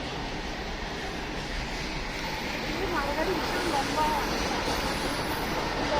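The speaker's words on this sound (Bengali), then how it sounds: "প্যাসেঞ্জার ট্রেনের থেকে মালগাড়ি বেশি চলছে রুটে" A goods train rolls past on an industrial freight route, a steady broad rumble that swells slightly as it nears, heard from close by.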